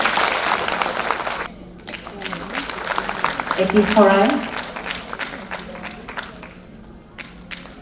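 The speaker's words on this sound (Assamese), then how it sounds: "সকলে হাত চাপৰি বজাই দিব লাগে।" Applause from an audience at a Women's Day celebration held by a BJP women's wing in Assam, a steady patter of hand clapping that swells and then fades under a speaking voice.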